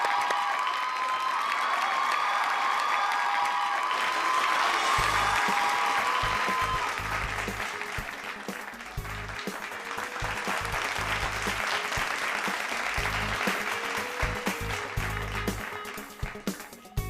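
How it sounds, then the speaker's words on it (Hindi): Loud, sustained applause from a live studio audience greeting a guest on a festive concert stage show, with a musical fanfare at the start and heavy rhythmic beats joining partway through. "Welcome to the superstar Sushmita Juneja. जोरदार तालियों के साथ।"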